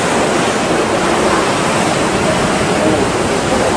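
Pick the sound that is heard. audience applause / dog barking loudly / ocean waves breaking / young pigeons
ocean waves breaking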